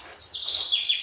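Recorded birdsong played through a loudspeaker at a Buddhist monastery in Korea gives a short run of bright, high chirps and trills, clear and fairly close.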